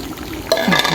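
Onions drop into a hot pan and burst into a loud sizzle halfway through, close and crackling after a quieter moment of low pan noise.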